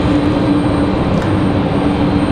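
A JetBlue Airbus A220 jet taxies at Raleigh-Durham International Airport, a steady, close, broadband engine rumble and hiss that holds evenly throughout with no voices.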